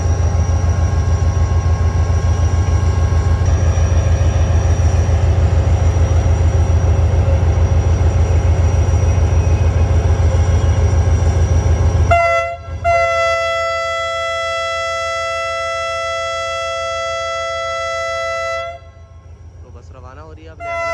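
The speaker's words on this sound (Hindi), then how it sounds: "तो अब वो लेकर आ गए कौशन, वो देंगे और फिर ट्रेन रवाना होना शुरू हो जाएगी" The Hazara Express pulls out of Drigh Road Railway Station with a loud, droning engine rumble, then a long, sustained train horn blast sounds close by for several seconds before cutting off.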